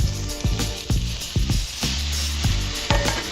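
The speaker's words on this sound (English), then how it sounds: "That's gonna be a nice little sizzle." Seasoned shrimp sizzle steadily in a hot frying pan, crackling and hissing close up, with a few sharp clinks and stirring knocks from a utensil.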